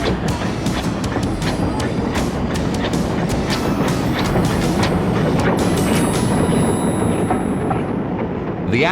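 A steam train running with a Bellerophon 0-6-0 well tank locomotive, loud and near, with continuous rumbling rail noise, rhythmic clicking of wheels over joints and sharp chuffing bursts, with a faint voice underneath.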